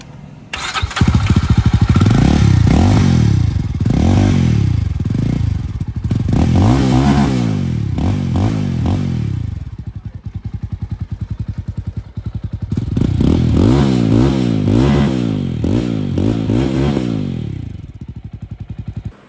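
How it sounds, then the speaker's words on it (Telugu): A Jawa motorcycle starts up nearby and its exhaust thumps loudly at idle, then revs in repeated rising and falling swells across two long runs with a short pause between. The engine is heard alone, with no talking. "ఇప్పుడు ఒకసారి జావా ఎగ్జాస్ట్ నోట్ అయితే వినండి."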